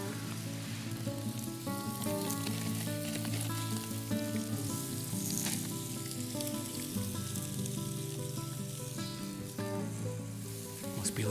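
Food sizzles steadily in butter in a pan at a rainy truck camper campsite, a continuous close crackling hiss with music-like tonal layers running underneath throughout.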